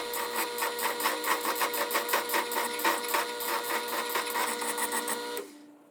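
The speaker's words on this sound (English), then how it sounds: "I also used the round carbide turning tool to smooth the mallet from the rough surface left by the square" A round carbide turning tool smooths a wooden mallet on a lathe, making a steady fluttering scrape with a rapid rhythmic pulse. It plays close and moderately loud for several seconds, then cuts off abruptly.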